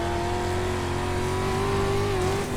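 A dirt street stock race car engine in the iRacing game at Lanier National Speedway, droning loud and steady at high revs with a slowly wavering pitch, close and continuous.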